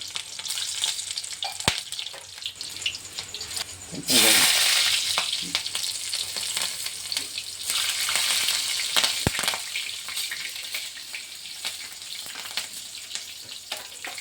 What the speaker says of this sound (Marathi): जिरं आणि मोहरी गरम झालेली आहे तर याच्यामध्ये मी आता ज्या पाकळ्या लसणाच्या पाकळ्या बारीक केलेल्या आहेत त्या टाकणार आहे